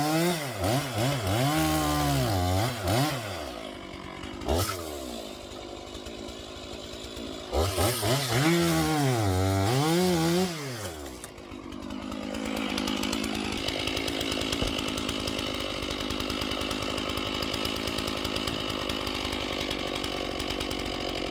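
A Stihl 461 chainsaw with a dull chain cuts firewood into turning blanks: the engine revs up and down repeatedly and bogs under load, then settles into a steadier drone, loud and close.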